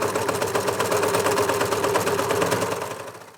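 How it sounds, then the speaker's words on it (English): A Janome 6234XL overlocker stitches fabric at speed, a loud, close, continuous mechanical whirr with rapid rhythmic ticking that runs for about three seconds before winding down and fading at the end. "It's not the quietest overlocker in the world, but it's certainly not the noisiest that I've used ever."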